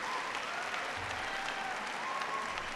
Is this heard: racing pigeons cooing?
no